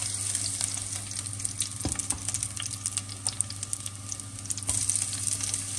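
Onion frying in a pan, a steady close sizzle with crackling pops spread throughout, a couple of sharper spatters standing out, over a low constant hum.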